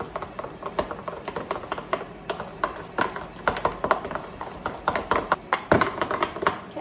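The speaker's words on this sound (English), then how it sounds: "So let's actually stir this in together." Honey mustard sauce made with Dijon and honey being stirred by hand, a steady run of close scraping and clinking strokes in an irregular rhythm, fairly quiet, with no talking.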